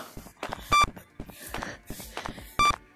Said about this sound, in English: That beeping thing gets faster when he's closer.